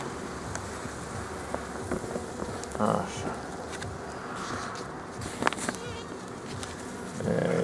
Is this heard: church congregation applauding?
no